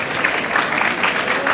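An audience claps steadily at a charitable trust award ceremony in Surat, a brief stretch of continuous, moderately loud applause from a hall crowd.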